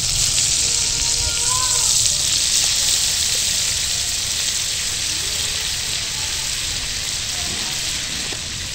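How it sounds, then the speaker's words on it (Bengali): Butter and flour frying together in a pan for a white pasta sauce, a steady bright sizzle that holds evenly throughout, close and fairly loud, easing slightly toward the end. "এবার ময়দা আর মাখনটাকে একটু ভেজে নেব।"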